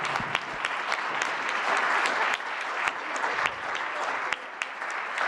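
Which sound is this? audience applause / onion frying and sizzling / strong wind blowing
audience applause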